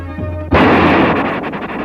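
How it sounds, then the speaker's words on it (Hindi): A huge explosion as an arms depot set on fire blows up, a sudden loud blast after half a second of low rumbling, followed by a sustained roaring, crackling wash of noise. "इससे इतना भयानक विस्फोट हुआ"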